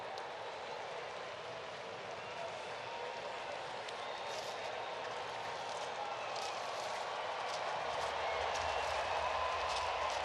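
A baseball crowd at Truist Park cheers for a returning relief pitcher, a steady, dense wash of distant applause and voices that swells slightly toward the end, with no break.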